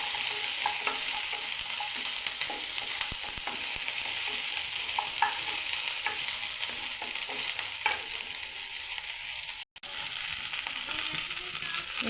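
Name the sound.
chopped onion and garlic frying in hot oil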